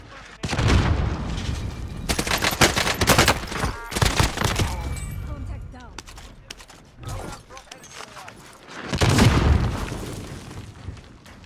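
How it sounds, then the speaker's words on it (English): Rockets and explosive weapons fire in the video game Warzone during a private match, a series of loud booming blasts and crackling bursts that cluster near the start and again near the end, with voices talking over them. "He's shooting rockets and you gotta get out of there."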